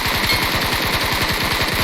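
Rapid automatic gunfire in a multiplayer shooter video game, a loud continuous burst of evenly spaced shots rattling for about two seconds without pause.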